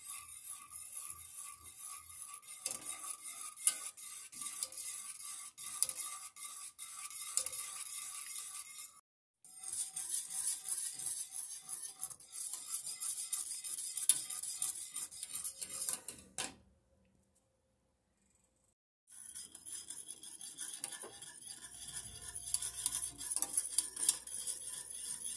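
A whisk works quickly around a bowl, giving a dense metallic scraping and ticking in three close bursts separated by short pauses, with no voices.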